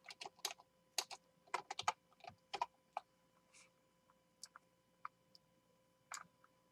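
Keys on a computer keyboard clatter in quick, uneven bursts of taps, then slow to scattered single clicks, faint and close in a quiet room.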